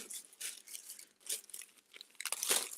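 Plastic bags pulled from a handbag and handled close by, crisp crinkling and rustling in irregular bursts with a louder crunchy crumple near the end, no voices.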